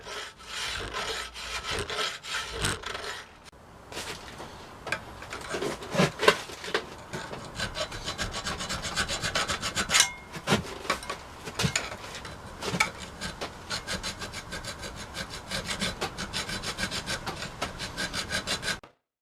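Mild steel sword part worked by hand with a file or saw to cut slots, giving steady rasping, scraping strokes in a fast repeated rhythm, close and fairly loud, with a few brief pauses and no voices.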